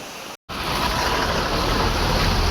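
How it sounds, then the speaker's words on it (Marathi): Swollen river in the Konkan during the rains, likely the Jagbudi, a broad steady rushing roar of fast water that starts after a brief cut and holds loud and unbroken, with no voices. "तुडुंबपणे नदी वाहते आपण बघताय"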